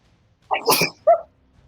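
A single sharp sneeze, close and loud, with a quick two-part burst and no talking around it.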